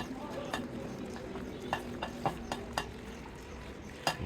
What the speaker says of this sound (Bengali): এবার হাত দিয়ে ভালো করে মাংসগুলি মিশিয়ে নেব।